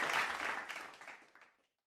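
Brief burst of applause and clapping from a small group, fairly faint and fading out after about a second and a half, with no talk over it.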